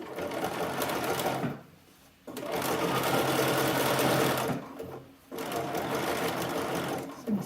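A sewing machine stitches lace onto lingerie in close, rapid mechanical bursts, running in three stretches separated by two brief pauses.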